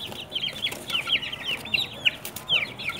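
Young chicks scuffling and fighting, giving rapid high-pitched chirps and clucks in repeated bursts, close and fairly loud with no talking.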